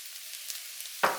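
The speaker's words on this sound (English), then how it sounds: "now you're gonna put some soy sauce in it, just a little bit, just like that" Soy sauce hits ginger shrimp fried rice frying in a hot pan, turning a low, steady background sizzle into a sudden loud hiss that then fades slightly.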